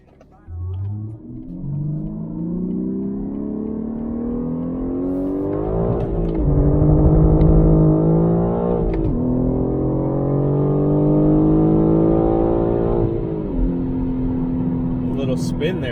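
A 2021 BMW M3 accelerates hard in second gear, its engine rising loudly through revs in sweeping climbs with sharp shift breaks and a brief wheelspin, heard from inside the car and close up.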